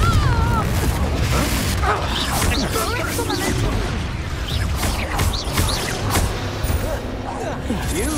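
A Confringo explosive spell blasts during combat in the video game Hogwarts Legacy, with bursts and whooshes layered over a busy battle mix and under a spoken incantation.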